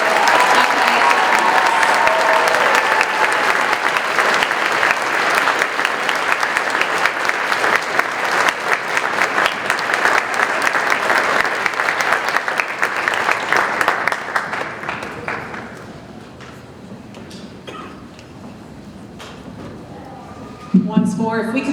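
A high school academic awards audience gives sustained, dense applause for the award recipients, loud and steady for about fifteen seconds before fading into quieter room noise with a brief sound near the end.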